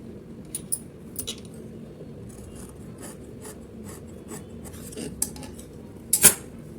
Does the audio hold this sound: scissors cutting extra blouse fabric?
yes